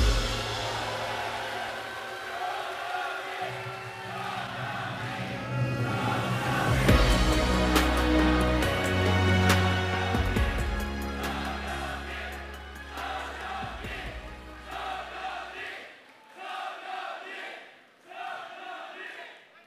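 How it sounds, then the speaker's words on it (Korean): An audience at a Democratic Party national convention rally in Daejeon cheers and applauds a candidate's introduction, crowd noise swelling with loud music that peaks mid-way and then thins out near the end. "큰 박수로 모시겠습니다"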